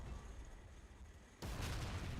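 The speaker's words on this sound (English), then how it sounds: "So the artillery came in" Artillery shells land in the Combat Mission video game, with US Army armor fighting Russian forces: a low, rumbling battlefield background is cut by a sudden heavy, close blast that holds as a loud, roaring wash.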